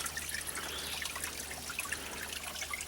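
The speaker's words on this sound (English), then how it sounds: "trickle of a stream bed." Steady, gentle trickle of a small stream running over its bed on a Fort Mountain State Park nature trail in Georgia, a continuous close bright babble with no voices.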